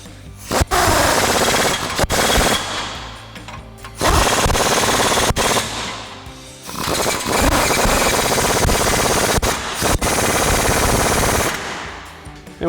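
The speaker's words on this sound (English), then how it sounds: "So now we can go ahead and tighten down our U-bolt nuts using our 22mm" An impact wrench with a 22mm socket tightens U-bolt nuts on a Chevrolet Silverado 1500 during a ReadyLIFT 4-inch lift kit install. It hammers out three loud, rapid rattling bursts of a few seconds each, separated by brief pauses.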